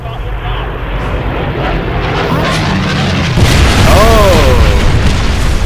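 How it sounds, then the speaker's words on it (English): Enemy aircraft roaring in during a Wolfenstein game, a loud, rising engine rumble with booming blasts, growing louder toward the end over dense battle noise. "Attention! Enemy aircraft inbound!"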